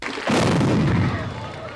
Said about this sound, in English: Watch the explosion.